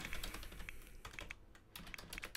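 Fast, irregular clicking of keys on a computer keyboard, typed in bursts with a short pause midway, close and clear with no one talking.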